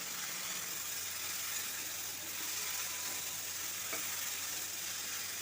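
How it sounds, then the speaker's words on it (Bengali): Okra frying over a high flame while being stirred, a steady dense sizzle with faint scraping, continuous and fairly close throughout. "এবার দিয়ে দেব ভেন্ডিগুলো সব দেওয়ার পর হাই ফ্লেমে 2 থেকে 3 মিনিট নেড়ে নেব।"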